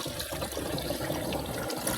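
Water pouring steadily into a 16-liter agricultural sprayer tank, a continuous close rushing and gurgling fill with no talk over it.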